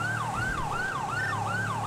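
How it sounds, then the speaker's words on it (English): A police car's wailing siren in a cop video game, loud and continuous, sweeping up and down in a fast repeating yelp with engine noise beneath. "If anyone would just listen to my fucking siren, that would be great."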